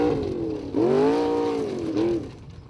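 Formula Offroad car at Stapafell, Iceland, revving at full throttle: a loud, strained engine roar that rises and dips in pitch, surges again, then drops away near the end.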